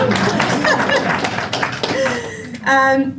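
Audience at an awards program clapping in a brisk, loud patter, overlapped by a voice speaking from the stage.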